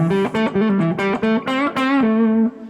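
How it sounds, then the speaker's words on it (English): An electric guitar lick, a quick hammer-on and pull-off phrase with slightly overdriven, sustained notes, played alone with no talking and ending on a held, ringing note. "this little lick I call a widdly wang"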